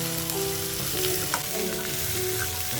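Potatoes and onions fry in a pan with salt, a dense, loud, continuous sizzle overlaid by soft stirring scrapes and a brief clink.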